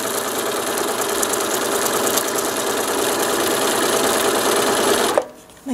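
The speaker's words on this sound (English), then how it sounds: "So I just sew all the way down." A sewing machine runs fast and steady down a 1/4 inch seam, a loud buzzing needle rattle that stops abruptly near the end, followed by a brief quiet moment.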